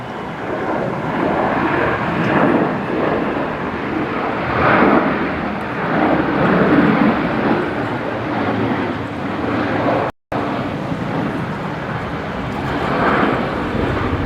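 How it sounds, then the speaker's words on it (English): A Qantas Boeing 737-800 fitted with split scimitar winglets takes off from runway 19 left at Brisbane Airport. Its engines make a steady, broad roar that holds loud for the whole stretch, with a little wind buffeting and no talk. "The 737-800 with the split skimmy retrofit."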